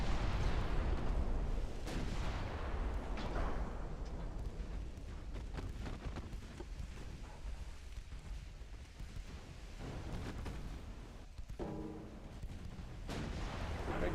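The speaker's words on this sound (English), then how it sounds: "Fire the guns!" Warship guns boom in the naval game Ultimate Admiral Dreadnoughts, heavy rumbling blasts rolling into one another over a constant low roar, dense and sustained with no clear gaps or voices.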